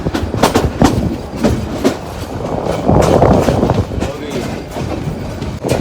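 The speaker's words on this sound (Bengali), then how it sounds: "আমাদের ট্রেন প্রায় বিশ মিনিট লেটে টঙ্গি থেকে ছেড়ে গেল" A passenger train pulls out of Tongi, running past Tongi Junction in Bangladesh. The loud, close clickety-clack of wheels on rail joints repeats rhythmically over a continuous rumbling roar, heard from on board.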